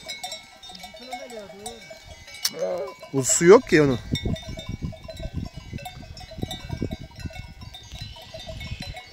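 Sheep bleating outdoors at a farm while mushrooms are gathered, a couple of wavering calls near the start, then someone speaking over rustling and clanking livestock sounds.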